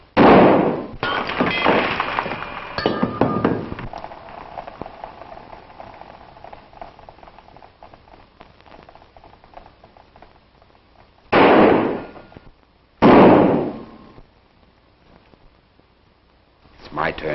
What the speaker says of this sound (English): Let's get down to some fancy Oklahoma shooting.